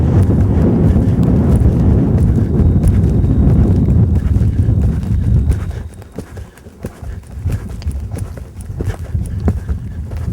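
Hooves of a horse working haunches-in strike in a rolling canter rhythm, close and heavy, with wind rumbling across the microphone and the hoofbeats thinning out as the horse eases off near the end.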